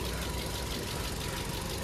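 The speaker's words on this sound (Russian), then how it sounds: "Под капотом двигатель работает ровно, без каких-либо посторонних звуков." A Chery Tiggo 3 engine idles under the open hood, giving a steady, even, low hum heard up close with no talking.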